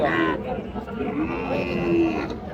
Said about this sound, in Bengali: এই যে একটা মুন্ডি ষাঁড় বাছুর